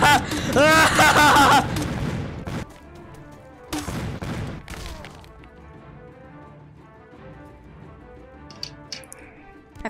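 A grenade launcher in the VR game Blade and Sorcery fires and explodes, with a loud burst of rapid blasts at the start, then two more heavy bangs, before quieter rumbling and a voice talking.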